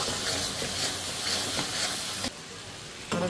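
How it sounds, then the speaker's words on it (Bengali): Spice paste of turmeric, chili, coriander and salt sizzles and fries in a pan as it is stirred, a close, steady hiss with scraping stir strokes that cuts abruptly near the end before resuming. "দিয়ে আমি ভালো করে মশলাটা ভালো করে কষিয়ে নেব"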